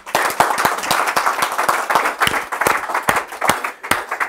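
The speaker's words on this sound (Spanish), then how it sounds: "Dale un aplauso a Cristo, hermano." A congregation breaks into applause, many hands clapping close and loud in an irregular, lively patter with distinct sharp individual claps standing out.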